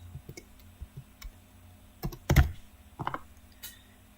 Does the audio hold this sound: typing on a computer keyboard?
yes